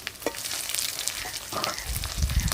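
Ginger, garlic and cumin paste frying with browned onions in a pan for an egg bati bhapa, a dense close sizzle with scraping stirs toward the end, no talk.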